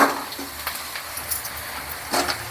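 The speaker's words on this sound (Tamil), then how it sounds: "வெங்காயம் நல்லா வதங்கி வந்துக்கிட்டு இருக்கு." Chopped onions sizzle as they are sautéed and stirred in a pan for a hotel-style egg gravy, with a steady frying hiss and occasional scrapes and knocks of a spoon against the pan, close and without talk.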